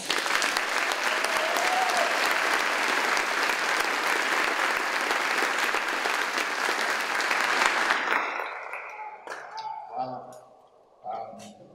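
Loud, dense audience applause greets a speaker at a 2018 Flashpoint Chicago graduation ceremony, sustained for about eight seconds before thinning into scattered claps and a few voices.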